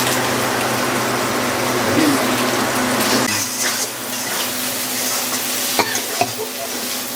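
Spices for pointed gourd with prawns fry and sizzle in a pan with Kashmiri chilli powder, a steady loud hiss broken by a few stirring scrapes near the end; a voice speaks briefly.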